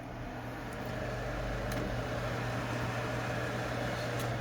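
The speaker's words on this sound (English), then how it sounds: "when you turn on this blower, that's on low." Blower fan on a wood stove running on its low setting, giving a steady broadband whir with a constant low hum, even and unbroken throughout, with no voices.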